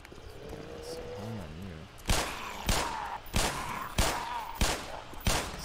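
Six sharp gunshots from the Black Mesa video game ring out at a steady rhythm, close and loud, after a stretch of quieter game ambience with a low tonal murmur.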